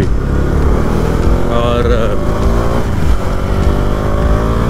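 Motorcycle engine droning steadily on a winding road through dense forest, with shifting harmonic pitch as the bike rides through corners, a voice talking over it.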